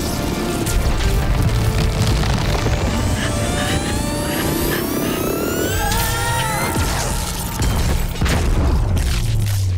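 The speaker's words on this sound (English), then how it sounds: "I'm sure no one noticed that giant blue explosion, right?" A giant blue explosion from the Sonic the Hedgehog movie, a loud and continuous roaring blast with rumbling booms and rising whooshing sweeps layered over it throughout.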